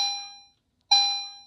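An EST Genesis chime horn sounds a continuous chime: two clear, ringing electronic tones separated by a short silence, each fading gradually, with no voices present.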